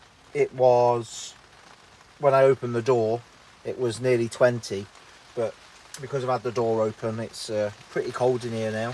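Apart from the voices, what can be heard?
heavy rain on polytunnel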